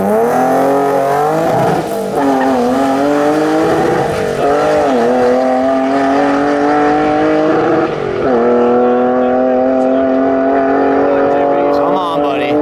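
A BMW E30 with a swapped-in M3 engine accelerates hard down a drag strip, loud and close, its engine rising through repeated revving climbs with brief dips at each gear shift over about twelve seconds.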